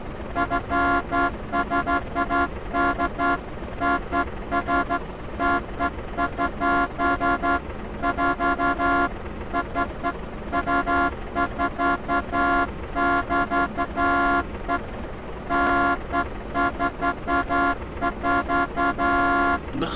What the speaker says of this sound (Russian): Да харе сигналит